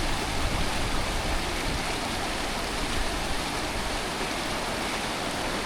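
River flowing in a backcountry setting, a steady, full rushing wash of water that stays constant and fairly close for the whole stretch, with no voices.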